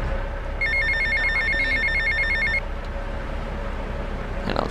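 A payphone rings in the Vice City video game with repeated electronic bell bursts in a steady pattern over a low background hum and city ambience, then stops.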